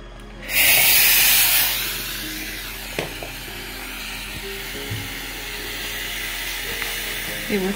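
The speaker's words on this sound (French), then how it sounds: "Ce défroisseur que j'ai acheté à Lidl." A garment steamer bought from Lidl, used on a stain in a bedroom, gives a loud burst of hissing steam lasting about a second, then a lower steady hiss with small clicks and handling noises.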